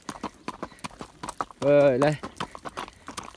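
A horse being ridden out to herd sheep clip-clops along at a slow walk, its hoof beats irregular and fairly close, while someone talks over them and the horse gives a brief whinny partway through.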